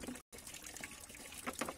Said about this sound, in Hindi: मैं अपने पॉन्ड को भरना स्टार्ट कर रही हूँ।